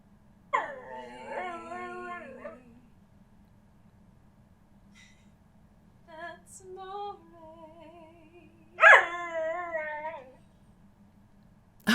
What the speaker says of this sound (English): I have a puppy who sings.